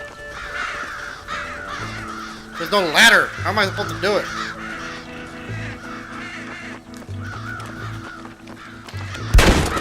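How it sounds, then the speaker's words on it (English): Crows caw around a farm silo in the Red Dead Redemption video game, harsh repeated calls rising in a cluster near the middle, over low game music while someone talks. "scare the crows out of the silo"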